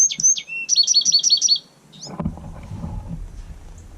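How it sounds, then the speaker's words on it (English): High, thin chirps of baby birds in a nest inside a vehicle's receiver hitch, in a rapid repeated series close by, then they stop and a low rumble of outdoor noise takes over. "There's a nest and it's got babies in it inside my receiver hitch."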